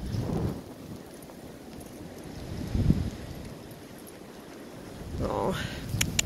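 Wind in a snowy blizzard, with horses nearby: low, rumbling gusts batter the microphone and swell and fade a few times over a soft background roar.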